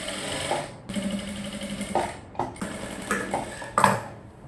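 Sewing machine stitching around the lining of a short gown, close mechanical whirring in several bursts broken by short pauses and sharp clicks.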